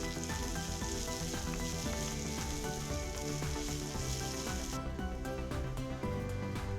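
Curry leaves and a split green chili sizzle in hot oil in a frying pan, a loud, steady crackling hiss that runs throughout with no talking.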